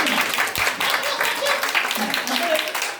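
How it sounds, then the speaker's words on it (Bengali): Audience applause at a magic show, a steady dense crowd clapping that runs through the whole stretch, with a voice talking over it. "এই হাততালি। এই হাততালি।"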